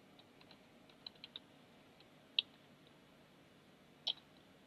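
Sparse, quiet keystrokes on a computer keyboard as a layout command is typed, a few soft clicks then two sharper isolated taps in a near-silent room.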